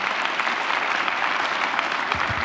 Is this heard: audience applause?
yes